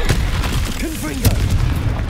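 Confringo blasting curse exploding in Hogwarts Legacy on hard difficulty: a single punchy boom over steady combat noise, with a voice briefly speaking just before it.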